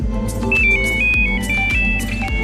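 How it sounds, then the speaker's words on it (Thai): An old Nokia mobile phone ringtone on display in Manchester plays a simple beeping electronic melody of stepped tones over a low pulsing backing, fairly loud and steady. "มือถือโนเกียสมัยก่อน"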